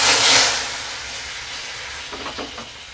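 Cumin, mustard seeds and dried chillies hit hot oil for a mango sambar tempering, a loud spluttering hiss at first that quickly settles into a quieter sizzle with a few faint crackles.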